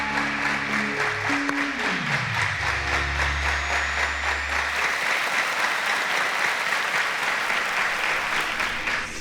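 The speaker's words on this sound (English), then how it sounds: "A round of applause to them, please." A studio audience at a televised quiz show gives sustained, even applause that fills the whole stretch, with a short descending musical tone near the start.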